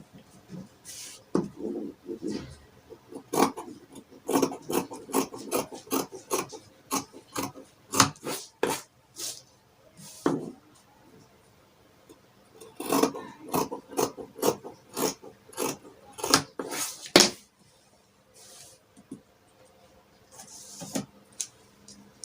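Scissors cutting out a fabric pattern piece for a one-shoulder funnel gown, close and crisp, with runs of quick snips separated by short pauses and light rustling of fabric and paper.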